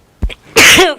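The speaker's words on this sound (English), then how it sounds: "Excuse me, I'm sneezing." A single loud sneeze up close, a quick sharp intake followed by an explosive burst.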